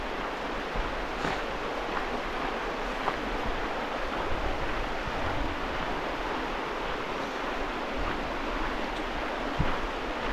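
A fast-flowing, very cold river rushes steadily nearby, a continuous broadband wash of water with some wind, outdoors on a quiet road near pools, no talking.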